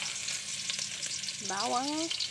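Chopped garlic sautés in hot oil at the start of a liver adobo, giving a steady close sizzling hiss with a brief squeaky tone rising near the end.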